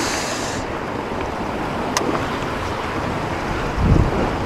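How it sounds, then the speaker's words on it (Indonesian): Steady strong wind roars across the microphone at sea while fishing from a boat off Bukit Asah, with broadband gusting noise throughout, a brief sharp click midway and a louder low buffet near the end. "Anginnya kencang."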